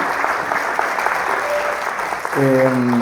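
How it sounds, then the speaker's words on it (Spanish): A church congregation applauds preachers, a steady wash of clapping from the crowd, with a voice and a sustained musical tone entering near the end. "Un aplauso por favor para estos gigantes de la palabra"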